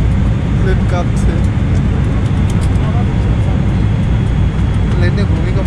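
Steady, loud engine drone fills the cabin of a Biman Bangladesh airliner in flight from Dhaka to Doha during light turbulence. The deep broadband roar runs without break, and faint voices may sit beneath it.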